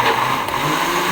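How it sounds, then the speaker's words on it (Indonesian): A kitchen blender whirs loudly and steadily, blending a coconut milk mixture made from half a grated coconut for a purple sweet potato talam cake, with a constant close motor drone. "Kemudian kita blender."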